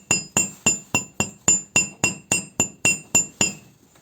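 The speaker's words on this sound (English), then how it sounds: "We pick a hard surface and a hard hammer and then put our structure on, and we would start to push on that hard surface" A hard hammer strikes jewelry wire laid on a hard surface to flatten it, giving about twelve sharp, ringing metallic taps at an even pace, each decaying briefly before the next, with no voices.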